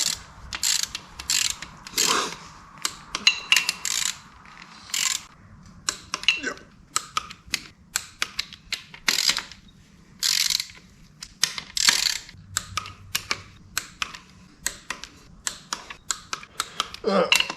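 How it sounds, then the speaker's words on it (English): A ratchet wrench clicks in quick bursts of pawl ticks with short pauses between strokes as it tightens the bearing cap bolts on a 5.3 LS engine, close and fairly loud, with faint speech now and then. "Each one of these bolts is going to get tight down to 15 foot-pounds to begin with"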